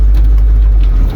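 A 1977 Ford F-250 with a big block engine idling, a loud, steady low rumble filling a short moment close to the truck.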